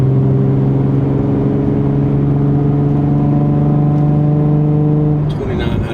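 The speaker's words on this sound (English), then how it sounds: "this is 2008 350Z with a Invidia Gemini Cat-Back" Inside a 2008 Nissan 350Z fitted with an Invidia Gemini cat-back exhaust, cruising in fourth gear at about 2,500 rpm, a steady droning engine hum holds an even tone before easing off near the end.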